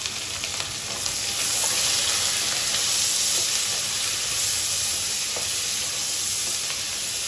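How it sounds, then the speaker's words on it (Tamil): Four large onions sautéing for a spicy Andhra-style mutton curry hiss loudly and evenly in hot oil, a dense close sizzle that rises slightly after the first second and then holds steady, with no talking. "வெங்காயம் நல்லா பொன்னிறமாக ஆகிற வரைக்கும் நல்லா வதக்கிக்கோங்க."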